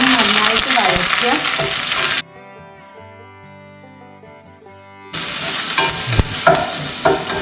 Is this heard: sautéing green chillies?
yes